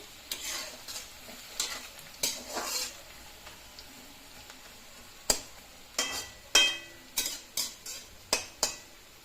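Onions fry in a pan for parshe fish curry, a soft sizzle broken by a series of sharp spatula scrapes and taps against the pan, irregular at first and then coming in quick succession.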